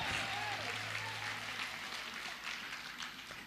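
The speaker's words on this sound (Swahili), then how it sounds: "tuwapigia makofi mazuri" A church congregation at a Sunday service applauds during a bishop's commissioning, a broad, fairly soft patter of many hands that slowly fades, with a voice faintly under it.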